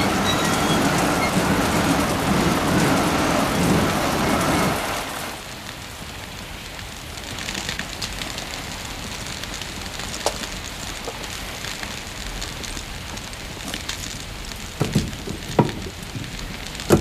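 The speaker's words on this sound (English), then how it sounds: "It's still raining." Steady rain pours heavily for several seconds, then drops to a softer patter with scattered drips and occasional sharp taps.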